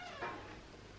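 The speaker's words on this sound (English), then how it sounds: "my cat is breaking into our food storage" A house cat gives one short meow, close but quiet, against a faint room hum.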